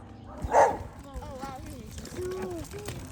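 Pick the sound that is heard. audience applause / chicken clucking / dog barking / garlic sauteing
dog barking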